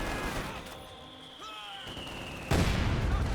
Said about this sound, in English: And that mortar almost wiped out that one as well.